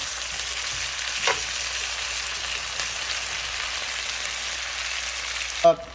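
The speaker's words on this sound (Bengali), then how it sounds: "এই বাটারের মধ্যে আলুটাকে রান্না করব হচ্ছে প্রায় ten minutes in high hit" Potatoes frying in butter over high heat, with a steady, close hiss of sizzling throughout, a couple of faint clinks, and a louder knock right at the end.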